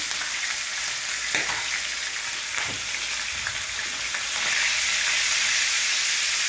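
Paneer pieces fry in hot oil in a pan with a dense, constant sizzle, a few soft stirring knocks, and the hiss growing louder toward the end.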